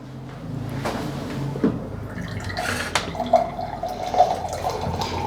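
More water is poured into a pot of beef karahi, with uneven splashing and dripping bursts that rise and fall across several seconds at moderate volume.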